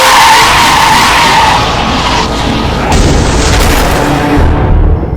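A car on a highway skids hard in a loud sustained screech of tires mixed with a roaring crash-like rumble that fills the whole clip, then fades out at the end.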